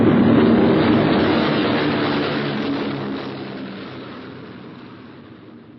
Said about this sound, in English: 6 groups of planes are taking off in 6 directions towards the coast of Western Europe